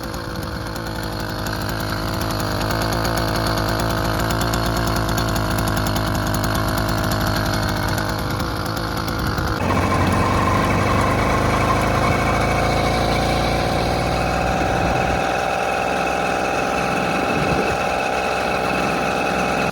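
A small two-stroke engine on a bicycle runs continuously with a buzzing, raspy drone in an empty parking lot, its pitch shifting partway through as it revs and then settles.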